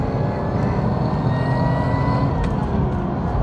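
A modified Lexus IS200 (Toyota Altezza) engine runs under load, a loud, close, steady rumbling drone with no distinct breaks, heard alone.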